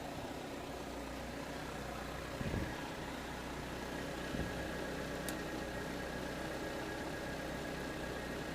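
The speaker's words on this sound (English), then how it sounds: "Car's running." Steady car engine idling with a continuous low rumble throughout, a couple of brief thumps near the start, no voices over it.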